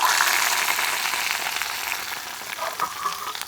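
A hot tempering of mustard seeds, chillies and curry leaves is poured into rasam, giving a loud, dense sizzle and crackle that starts strong and slowly fades and settles.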